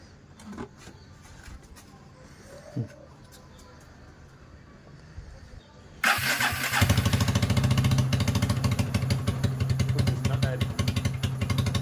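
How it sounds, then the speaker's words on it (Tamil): A motorcycle engine fires up via its self-starter after a few quiet seconds of faint clicks and background noise, then settles into a loud, steady idle. "வண்டி ஸ்டார்ட் ஆகிறது"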